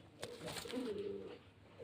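A Pakistani golden pigeon at a breeder's home in Beldanga gives a faint, short, low coo that rises briefly and fades, alone and quiet.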